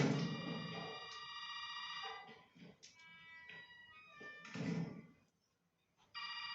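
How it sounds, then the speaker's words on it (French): A telephone in Resident Evil 7 rings in bursts of bright, trilling bells, returning after a brief quiet gap, with muffled game ambience between the rings. "donc le téléphone sonne, c'était sûr."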